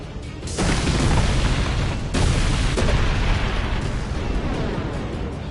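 Heavy booming explosions from Final Fantasy X HD Remaster, two big bursts close together followed by a dense, rumbling roar that stays loud throughout.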